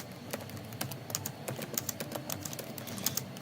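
Rapid, uneven clicking of keys on a computer keyboard, close and fairly soft, continuing steadily without any voices.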